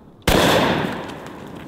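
Sawed-off double barrel 12-gauge shotgun fires a single loud blast of law enforcement 12-pellet buckshot at giant watermelons outdoors, a sharp close report followed by a long decaying rumble.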